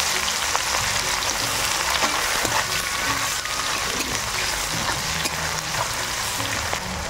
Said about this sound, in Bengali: এবার কুচানো পেঁয়াজ দিয়ে দেব